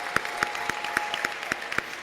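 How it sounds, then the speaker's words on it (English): Graduation audience applauding award recipients at a school ceremony in New York, a short burst of crowd clapping with sharp, evenly spaced louder claps standing out above it. "Let's give them a round of applause."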